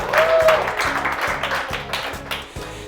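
Scattered applause from a seated audience at a Korean seminar, loud and close, with a rhythmic thumping beat of background music underneath and a brief tonal whistle near the start.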